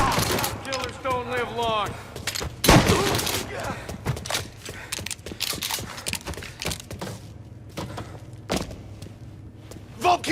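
Gunfire in Mafia Definitive Edition, a burst of sharp shots and thuds in the middle, with shouting voices and talk over most of it and scattered impacts afterward.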